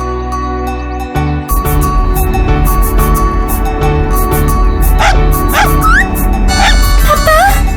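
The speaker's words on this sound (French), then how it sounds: "Il y a un chiot sur la route." A cartoon puppy on a road lets out a short run of high yips and barks, heard near and clear over a steady musical background.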